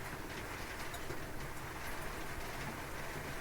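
Rain from Storm Claudia passing over Britain, a dense steady hiss of moderate rainfall without a break, fairly loud and even, no voices.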